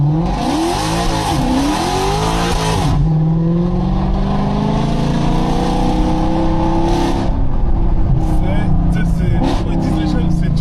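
A car engine revs hard and surges into a Formula One–style racing launch, loud and close, with the engine note climbing and rasping throughout and a brief drop in the middle.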